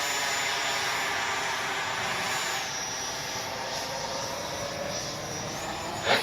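Electric RC model jet, a Fusion on a 6S battery, flying overhead with its gear retracting, a continuous whining ducted-fan roar that stays loud and steady with a slight pitch sweep, no voices heard.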